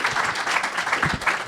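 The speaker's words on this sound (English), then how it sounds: "Please, Representative Don Beyer, give him a round of applause." A crowd at a National Cancer Prevention Day event gives a quick burst of applause, dense and fairly loud, lasting only a moment.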